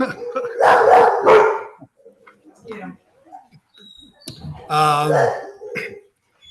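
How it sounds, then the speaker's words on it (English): A dog barks excitedly at someone arriving at the door, in two loud, close bursts a few seconds apart, with quieter scattered sounds in between. "somebody just came to the door and my dog went crazy"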